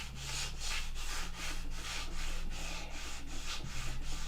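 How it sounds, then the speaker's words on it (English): Balsa wood being sanded by hand with the grain, a soft, close rasping rub repeated in a quick steady back-and-forth rhythm, quiet and with no voices. "keep sanding with the grain until those scratch marks are gone."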